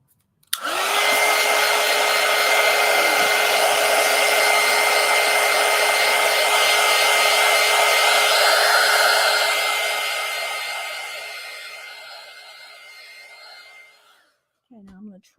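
A hair dryer blows on paint on a collage pumpkin, switching on sharply and running as a loud, steady whine for about twelve seconds before trailing off and cutting out.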